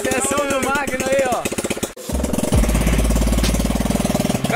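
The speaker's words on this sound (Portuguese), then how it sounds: "O cara adaptou o motor de moto aí, soldou o metalão, colocou o volante direitinho" A homemade car built around an adapted 125cc motorcycle engine runs loud and close, a rapid, steady chugging idle that rises into a sustained low drone in the second half.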